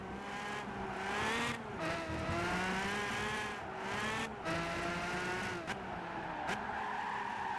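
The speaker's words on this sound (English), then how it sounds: "Yeah, there's a drift." McLaren F1 drifting in Gran Turismo 5, its engine revving and wavering with tire squeal through repeated shifts, loud and close with no talking.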